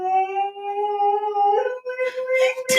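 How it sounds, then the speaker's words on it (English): A dog howls in long, sustained wavering tones, joined by a passing fire truck siren, close and loud for nearly three seconds before a brief noisy burst at the end. "that was my dog howling with the fire truck."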